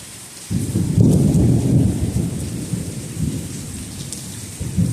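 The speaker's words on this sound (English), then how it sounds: "it's actual thunder. And lightning in out here." Thunder breaks suddenly and loud, then rolls on as a long low rumble over steady rain falling on the ground and surfaces outdoors, with no voices.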